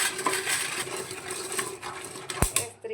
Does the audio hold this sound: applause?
no